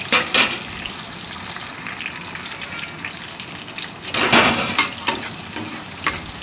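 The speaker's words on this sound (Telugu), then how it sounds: "ఆయిల్లో ఇవన్నీ కూడా 1 నిమిషం పాటు ఫ్రై అవ్వాలి." Green chillies, chopped onion and curry leaves fry in hot oil with a steady close sizzle, broken by brief louder bursts of crackling and stirring clatter.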